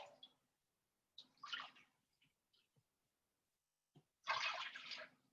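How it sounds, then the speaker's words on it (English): Water poured into a measuring cup while preparing vegan cheese with agar, two short splashing bursts of running water with a quiet pause between them, close and moderately loud. "I'm going to measure out 2 cups of water."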